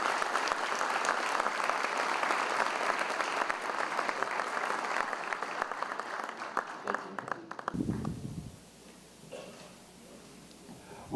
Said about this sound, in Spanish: Un fuerte aplauso con ustedes